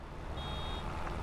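A farm vehicle in Farming Simulator 22 gives a single faint, thin high beep over a constant low engine rumble.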